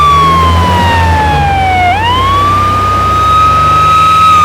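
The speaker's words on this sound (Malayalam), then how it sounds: "നാരായണ, ആ ആംബുലൻസ് ഒന്ന് ഒതുക്കിക്കോളി." An ambulance siren wails loud and close, one long continuous tone that falls and then rises again over a low traffic rumble.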